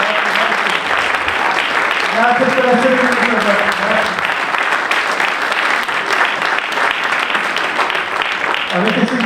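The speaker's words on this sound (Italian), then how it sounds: "un applauso" Audience applause at the Premio Targa48 2024 award evening, a dense steady wash of clapping filling the whole stretch, with someone speaking over it.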